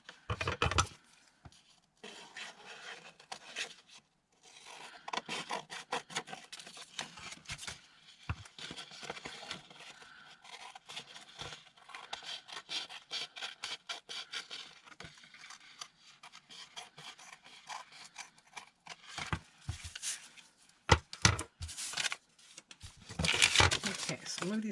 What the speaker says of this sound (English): We're going to trim the excess off the back.